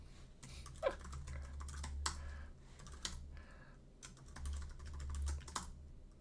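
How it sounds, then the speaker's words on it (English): Password keyed in on a computer keyboard, heard as soft, scattered key clicks at low volume over a faint steady hum, with no speech. "And you gotta type in the password"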